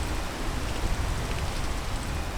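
Steady rain falling in the video game Peak, a dense, even hiss of downpour with low rumbling texture, continuous and fairly close throughout with no voices.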